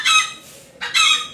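A chicken sounds off twice in quick succession in the background, a pair of bright, harsh squawking clucks with a short gap between them and nothing else behind them.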